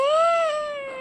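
A young child imitates a cat's meow with a single clear, tonal mewing call, close and fairly loud, rising slightly then trailing off over about a second.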